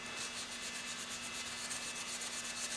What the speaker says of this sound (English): I'm going to burnish it just a little bit more here.